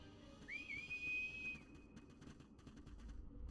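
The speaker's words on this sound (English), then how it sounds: "What'd they just whistle for?" A rising then sustained whistle from the Visions of Mana video game, one clear tone lasting about a second over a low rumbling game soundscape.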